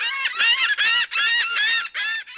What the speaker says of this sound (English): These wild birds can sense the approaching hurricane.